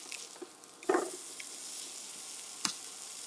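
Meatballs searing in a pan give a quiet, steady sizzle with a brief louder spatter and a sharp click near the end.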